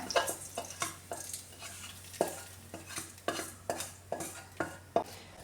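A spoon stirs jackfruit seed thoran in a pan after the flame is turned off, with about a dozen sharp scraping strokes in an even rhythm over a faint sizzle, close and alone.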